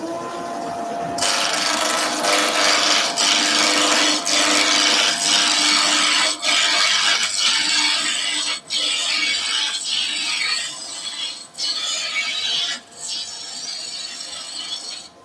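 A wood lathe turns a piece of dry timber while a dust extractor runs, giving a loud, steady scraping and hissing of a tool cutting, broken by several brief pauses where the cut lifts off, with no voices.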